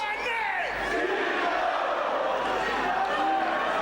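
A wrestling arena crowd roars in a loud, sustained wash of cheers and shouts that holds steady throughout, with voices blending into one dense swell.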